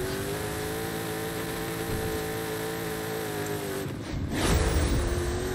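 A car accelerating in Forza Horizon 5, its steady engine whine holding for several seconds before a sudden surge of louder low rumble near the end.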